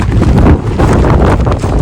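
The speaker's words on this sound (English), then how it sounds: "Windy." Gusty wind blows outdoors in freezing Alaska, buffeting loudly and steadily throughout in a short burst of rough rushing noise.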